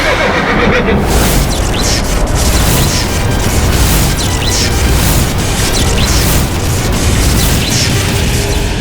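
A horse neighs loudly over a dense, roaring dramatic backdrop with booming rumbles, lasting several seconds in a staged mythological scene.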